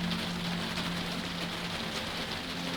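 Steady rain patters through a slightly opened window of a 1920s Orient Express sleeper train in motion, a continuous even hiss with a low rumble of wheels beneath, no voices.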